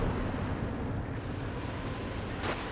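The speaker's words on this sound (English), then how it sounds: "Got another artillery barrage there, I believe." An artillery barrage lands in Company of Heroes 2, a steady roll of booming impacts and rumbling explosions with a sharper crack near the end, no voices.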